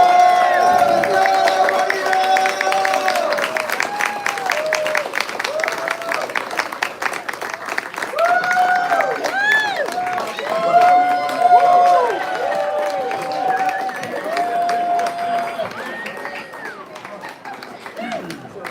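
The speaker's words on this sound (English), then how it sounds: "What's everybody clapping about?" Concert audience clapping and cheering at a show at Fogartyville, with tuning notes and voices over the crowd noise.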